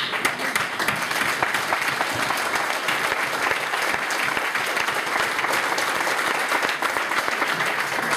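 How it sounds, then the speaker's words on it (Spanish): Dense, steady applause from a large audience at a campaign closing rally, sustained and loud throughout with no break. "en este caso soy yo quien os va a aplaudir"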